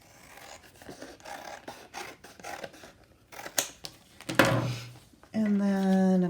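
Paper is cut with scissors in a handful of quick, close snips and scrapes, followed by a short loud hum at the end.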